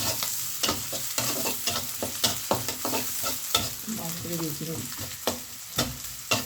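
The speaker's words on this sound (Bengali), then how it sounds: "একটু তেল দিলাম, রসুন কুচি, পেঁয়াজ কুচি দিলাম" Chopped garlic and onion frying in a little oil for a red amaranth and shrimp stir-fry, a steady close sizzle broken by repeated scraping stirs of a spatula.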